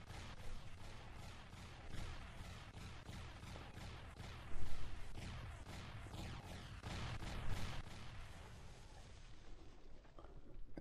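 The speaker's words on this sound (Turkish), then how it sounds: "Evet arkadaşlar, patlamamız sona ermiştir." Explosions and rapid blasts in the survival game 7 Days to Die, a dense, rumbling barrage of repeated bursts with heavier thumps in the middle, fading toward the end.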